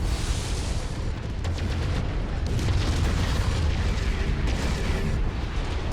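A giant combat mech blows up in MechWarrior 5, a loud, continuous roar of blasts and rumbling debris that keeps going for the whole stretch, with sharper bursts rising out of it.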